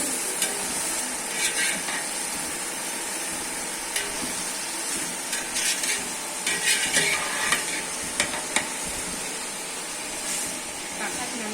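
Tomatoes fry and sizzle in a pan for mutton biryani, a steady loud hiss with occasional scrapes and clinks of stirring on top.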